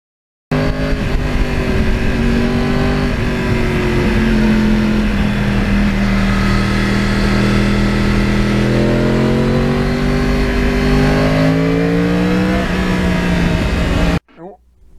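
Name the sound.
Yamaha R1 crossplane motorcycle engine revving while riding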